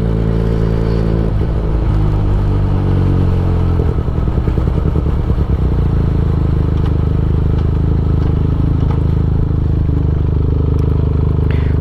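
Benelli TNT 249 S motorcycle engine idling and revving steadily up close as the rider swings through a slow U-turn, with a continuous throaty rumble and brief clattery blips, no talking.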